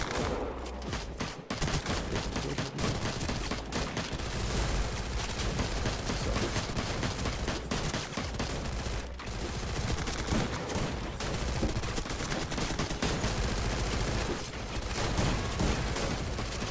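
Dense, continuous gunfire in the game Free Fire crackles nonstop for the whole stretch, rapid shots layered into a loud, sustained barrage like a heated firefight.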